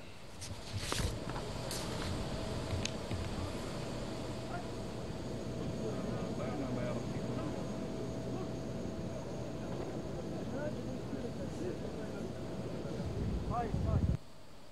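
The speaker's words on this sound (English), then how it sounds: "The Algerian Air Force jet fighters of the People's National Army performed air honors" Algerian Air Force jet fighters of the People's National Army roar overhead during an air-honors flypast, a broad steady rumble lasting over a dozen seconds with wind buffeting the microphone.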